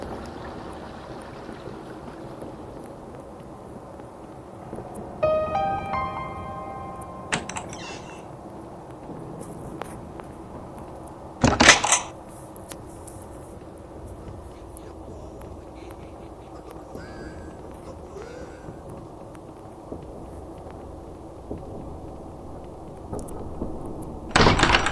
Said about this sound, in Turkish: Oğlum niye bu kapı anahtarı açmıyor ya?